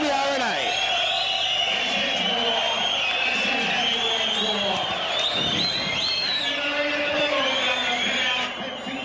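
A dense crowd roars and cheers continuously at a heavyweight Muay Thai fight, loud and sustained with shifting whistles and shouts, while a commentator talks over the noise.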